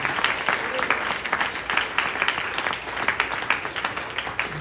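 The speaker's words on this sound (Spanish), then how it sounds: "Dale un fuerte aplauso al Señor," Worshippers in a church applaud loudly and steadily for several seconds, a thick wash of many hands clapping nearby without any talk.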